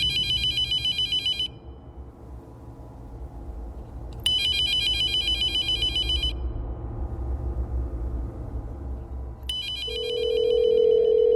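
A telephone rings as a call is placed, loud electronic trilling bursts repeating in a regular cadence with pauses between, over a low background hum, and a brief tone near the end.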